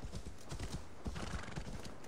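Horse hooves clip-clop in a steady, dense rhythm with a neigh woven in, from a horse in the Assassin's Creed Valhalla video game, loud and close with no talk over it.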